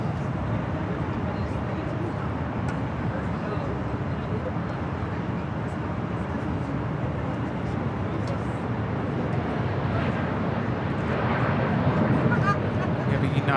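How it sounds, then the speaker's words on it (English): A Southwest Airlines Boeing 737-800 arriving at LAX from Denver produces a continuous, broad jet roar that holds steady and swells slightly toward the end, with someone talking over it. "This is Southwest Airlines 2574 coming in from Denver, Colorado on the"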